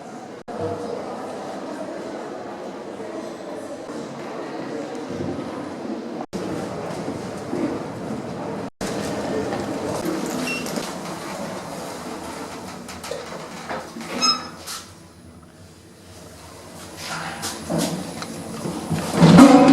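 The steady rumble of a tram in motion in Nantes, France, heading to the outskirts, with clunks, a door sliding and people talking nearby, rising in loudness toward the end.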